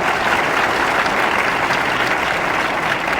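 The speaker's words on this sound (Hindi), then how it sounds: "एक बार जोरदार तालियां" A large crowd claps loudly in sustained, dense applause for Uttar Pradesh Chief Minister Yogi Adityanath, an even roar of hands with no voices over it.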